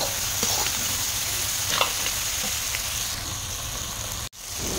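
Chicken pieces and onions fry in a pan with a steady, close, hissing sizzle. Faint scrapes of a stirring ladle come through now and then, and the sound cuts out briefly near the end.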